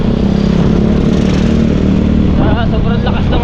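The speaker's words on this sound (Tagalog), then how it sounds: "Sobrang lakas ng motor pag uwi." A loud motorcycle engine drones close by in a steady, rough rumble, with people talking over it.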